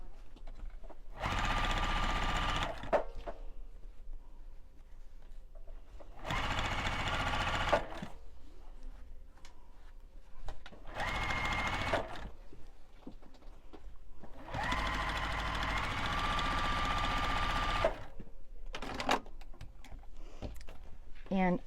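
A sewing machine stitches the fold of a Santa hat pillow, about an eighth of an inch in, running in several loud, steady bursts of rapid needle chatter separated by short pauses.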